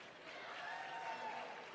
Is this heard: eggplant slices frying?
no